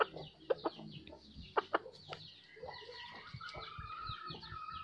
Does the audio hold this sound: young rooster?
yes